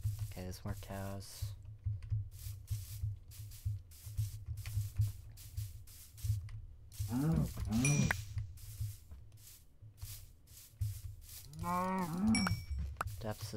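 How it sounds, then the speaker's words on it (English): Video game cows moo three times, a short low call near the start and two longer ones later, while computer keyboard keys clatter steadily underneath. "More cows."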